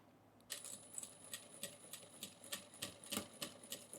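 Sewing machine stitching a seam along a zipper on a fabric pouch, a steady run of quiet rapid needle ticks starting after a short silence, close and faint.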